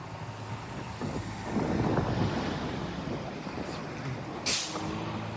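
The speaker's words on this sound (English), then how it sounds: "There's a nice breeze." A warm outdoor breeze blows steadily past the microphone, with a broad rushing wind noise that swells in the middle and a brief gust near the end, with no voices.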